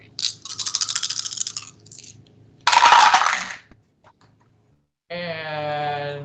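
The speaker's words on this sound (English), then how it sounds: "there's 4 dice here" Four dice rolled onto a table during a tabletop role-playing game, giving a burst of clattering and rattling, then a louder tumbling clatter that settles, followed by a brief sustained tone.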